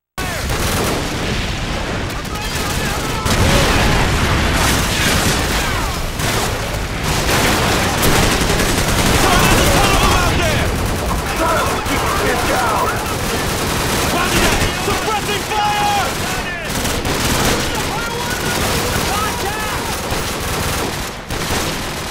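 Dense, sustained gunfire and bursts of automatic weapons fire with occasional booms from a swamp battle in the video game Call of Duty 4: Modern Warfare, loud and continuous throughout with shouted voices mixed in.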